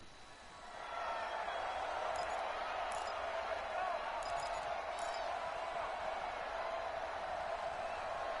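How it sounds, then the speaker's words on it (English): Stadium crowd noise in an American football video game during a late two-point conversion attempt, a loud continuous roar of cheering that swells at the start and holds steady, with a few faint higher tones on top. "Listen to this crowd now."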